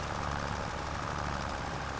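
Steady, rough diesel rumble of a tractor engine in Farming Simulator 25 runs loud and close, with a slightly knocking, vibrating texture and no voices.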